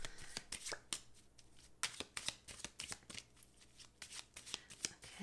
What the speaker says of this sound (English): I'm also going to shuffle the Lenormand deck to get some clarifications on the cards